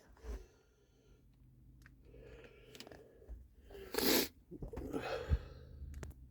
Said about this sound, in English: Oh, sorry about that, guys, I did sneeze.